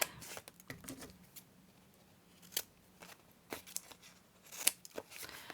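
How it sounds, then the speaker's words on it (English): Scissors snip through paper while trimming part of a collage, a series of crisp, irregular cuts with faint rustling between them, quiet and close, with no one talking. "I'm actually going to cut that bit away so that we can see that behind."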